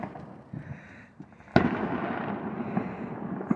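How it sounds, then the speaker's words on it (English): Fourth of July fireworks pop and crackle outdoors, one sharp loud burst followed by a dense stretch of smaller crackling reports, with no talking. "At least we have fireworks."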